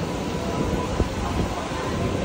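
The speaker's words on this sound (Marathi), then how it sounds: "आणि आता आपण आलो ट्रेन मध्ये." Steady low rumble and broadband rattle of a moving train, heard from inside a carriage, continuous and fairly loud with one brief thump partway through.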